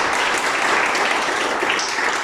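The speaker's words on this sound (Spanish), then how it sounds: "¿Cuánto le dan un aplauso al Señor?" A church congregation breaks into sustained applause in praise of the Lord, a dense, steady wash of clapping that holds at the same level throughout, with no talk over it.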